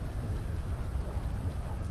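Heavy rain and rumbling thunder in a video game sewer level, a steady loud wash of downpour with low rolling storm noise throughout, no voices.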